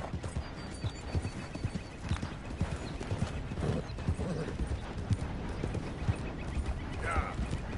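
Horse hooves clip-clop steadily as a horse-drawn covered wagon rolls past in Red Dead Redemption 2, with a brief whinny and faint creaking mechanisms under continuous background game ambience.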